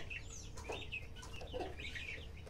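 A hen clucks several times in short, soft bursts against a steady hum of background noise, with no talking.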